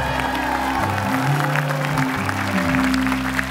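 A studio audience at the Indonesian talk show Ini Talk Show applauds for a band, a steady wash of clapping over a sustained low hum of band or room tone lasting the whole stretch.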